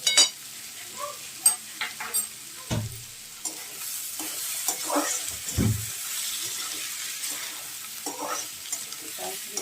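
Vegetables for Hakka noodles stir-fry in a hot pan, a steady sizzle broken by repeated clanks and scrapes of a spatula tossing them, fairly close and without speech.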